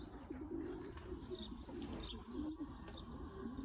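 Racing pigeons coo softly in a garden, a continuous low murmuring rhythm at a moderate distance, with a few faint chirps from other birds mixed in.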